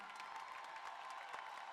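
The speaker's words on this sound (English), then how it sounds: "let's give a round of applause to recognize our outstanding musicians in the Chicago College of Performing Arts" Audience applause for student musicians at a spring college commencement ceremony, a faint, far-off and steady patter of many hands clapping throughout, no voices.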